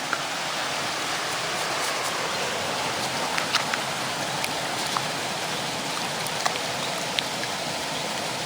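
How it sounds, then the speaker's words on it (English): Stream water rushing steadily outdoors while dirt is washed off a metal-detecting find, a dense, continuous splashing hiss up close with small droplet clicks throughout and no talking. "I've just brought it over to the stream. See if I can wash some dirt off."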